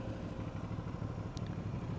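Kawasaki Z1000 motorcycle engine held at a steady, rumbling throttle during a road trip riding course in the south of France, a continuous low-pitched drone with a brief faint clatter partway through.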